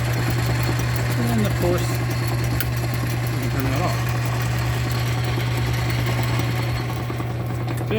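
A refurbished South Bend 9-inch Model A lathe running under power in reverse, a steady close mechanical hum with a constant low drone and faint rhythmic rattling, while someone talks over it.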